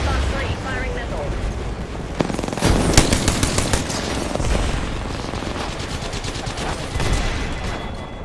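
Missile fire in a video game, a rapid burst of sharp automatic-sounding blasts and booming impacts, loud and dense, with a voice talking over part of it.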